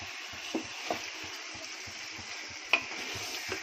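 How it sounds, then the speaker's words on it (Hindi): Mutton stirring and frying in a pan for mandi: a soft continuous sizzle with a few scraping turns of a spoon and a sharper clack near the end, close and unaccompanied by voices. "बस सिर्फ थोड़ा सा अल्टी पलटी करूंगी, बाद में अपना गोश्त अच्छे से भुना जाएगा"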